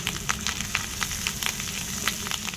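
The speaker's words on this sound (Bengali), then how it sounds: "মাছের ডিমগুলো দিয়ে ভালো করে ভাজবো" Fish roe fries in a pan with a continuous close hiss, punctuated by quick regular stirring clicks and scrapes, with no voices.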